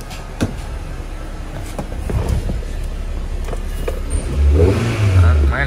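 A 2009 Hyundai Getz with a manual gearbox idles quietly, its low engine hum steady and close with a slight rise near the end, alongside a few clicks and handling sounds.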